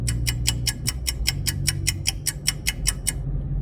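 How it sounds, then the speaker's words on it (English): A dashboard clock ticks inside a Citroen C1 on the move, its sharp, evenly spaced clicks carrying loud and close over the low rumble of road and engine. "even 40 miles an hour, I can pick that clock up loud and clear"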